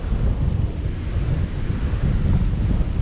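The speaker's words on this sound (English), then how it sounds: "the wind is in our favour" Strong wind buffets the microphone outdoors on a ride near the Mount Mercer wind farm area in Victoria, a steady loud rumbling roar that continues unbroken and close, with no voices.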